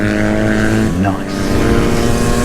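Brand new two-stroke supermoto motorcycle idling while warming up, a steady buzzy engine drone with a brief pitch dip in the middle, close and loud, with a short spoken word over it.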